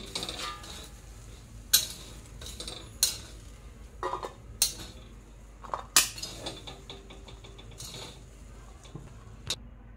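Crushed peas being scraped and transferred onto a steel plate, with sharp metallic clinks and scrapes of utensil against steel at irregular intervals, fairly quiet and close.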